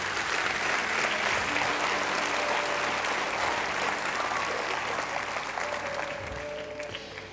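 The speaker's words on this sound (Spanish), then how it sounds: "Un aplauso al Señor." A church congregation applauds during a sermon, sustained loud clapping from many hands that holds steady then begins to taper near the end, with no talking over it.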